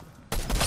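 Gunfire erupts in a shooter video game, a sudden loud burst of rapid shots after a quiet moment, close and sharp.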